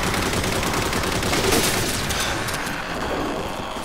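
Rapid automatic gunfire from the player's gun in Halo 4, a dense loud stream of close shots running continuously and tapering slightly near the end.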